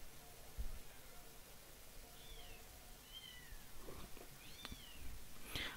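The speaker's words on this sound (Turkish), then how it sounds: "Bu arada evden yavru kedi sesi geliyorsa da hiç, yani kusura bakmayın" A young kitten meows several times from another room, thin high-pitched cries that are fairly faint and distant, heard against a steady background hiss with little other sound.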